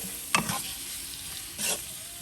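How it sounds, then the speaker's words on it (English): Shrimp and cauliflower fried rice is stirred in a hot pan, two sharp scraping strokes over a steady quiet sizzle, close and without voices. "Then we're gonna get that stirred around in there like that."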